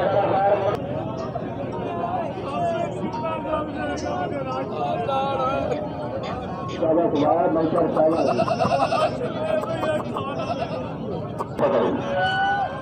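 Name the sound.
goats bleating at a livestock market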